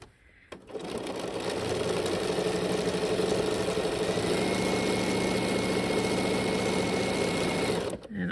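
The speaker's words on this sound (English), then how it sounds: "I'm demonstrating that the machine doesn't have any trouble going over these needles" A sewing machine stitches quilt fabric straight over pins, a steady continuous whirring hum of running motor and needle that starts about half a second in and holds evenly for roughly seven seconds before stopping.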